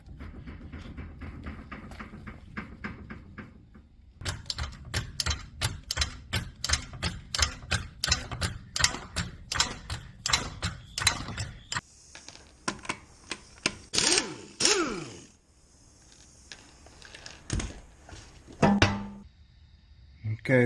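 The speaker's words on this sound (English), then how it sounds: "the rack and pinion is shot, and you can hear it if you move the wheel back and forth" Rapid, repeated clunking and knocking from a worn rack and pinion on a 2010 Ford Taurus as the wheel is shaken back and forth by hand, a rhythmic rattle of sharp thuds in a quiet garage, then brief metallic scraping.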